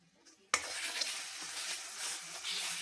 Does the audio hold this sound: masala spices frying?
yes